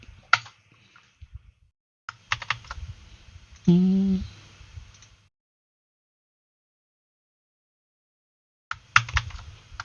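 A computer keyboard is tapped in short scattered bursts while a Ctrl+Space+Tab shortcut is entered in a code editor during HTML template work. The keys click up close with quiet pauses in between, and a brief tone sounds midway.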